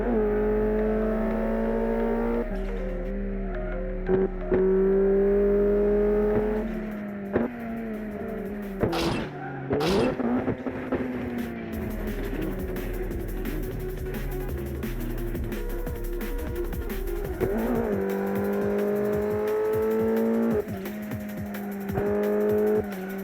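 Mitsubishi Evo race car lapping in the SRP racing game, its engine droning steadily and rising and falling through gear changes, with a few sharp tire-squeal bursts midway and no talk.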